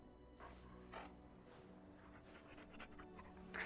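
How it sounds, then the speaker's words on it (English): Game dog companion from Dragon Age Origins panting with a few soft bursts of barking or yipping, fairly quiet over a steady game background hum, with one brighter bark near the end. "He bounces around you, barking excitedly."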